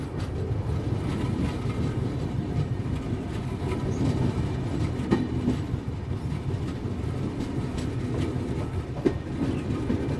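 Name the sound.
passenger train passing a station at slow speed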